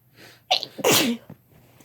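A close, loud sneeze with a quick preceding gasp and a short explosive release, followed by a soft trailing breath, with no talking.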